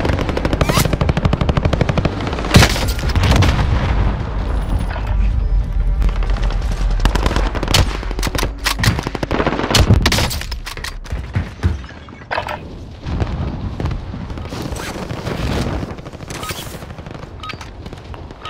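Rapid bursts of automatic gunfire and heavy impacts from incoming rounds in Call of Duty: Modern Warfare, loud and dense throughout, thinning into scattered sharp shots toward the end.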